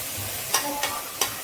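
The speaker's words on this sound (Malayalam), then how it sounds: "ഇതിങ്ങനെ നമ്മൾ എല്ലായിടത്തേക്കും ഇളക്കി യോജിപ്പിക്കണം" Chopped banana flower is stirred into masala in a hot pan for thoran, with a low steady sizzle broken by three soft scraping strokes of the spoon, close and without talk.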